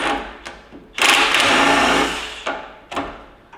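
Old bolts on the bearing caps of a John Deere "Amazon" cane mill are turned with a wrench during disassembly. Sharp metallic clicks come first, then a loud grinding rasp lasting about a second, then more clicks.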